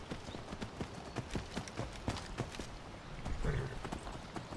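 Horse hooves clip-clop in a steady, fairly quick rhythm while riding on the road to Riften in Skyrim, clear and mid-distance over a soft ambient bed.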